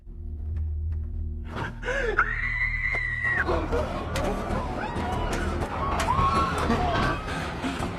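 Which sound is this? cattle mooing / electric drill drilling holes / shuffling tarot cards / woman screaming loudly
woman screaming loudly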